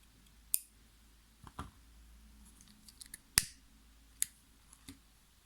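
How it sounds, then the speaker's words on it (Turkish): Scissors snip white thread during needle lace work, a handful of crisp, close clicks scattered irregularly over a quiet background with no talk. "Yeşil yaptığımızı tutturacağımız için ben burada beyaz ipimi kesiyorum"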